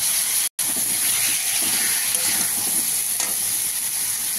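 Tomatoes frying and being stirred in a pan for a tomato and mango-leather chutney, with a steady close sizzle and hiss that runs throughout, broken by one very brief dropout near the start.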